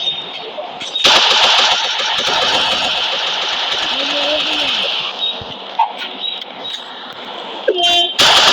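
Rapid machine-gun bursts and engine noise during a firefight in a video game, loud and close, with a horn-like tone and someone talking over the action.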